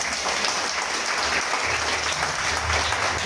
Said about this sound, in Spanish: Un aplauso al Creador.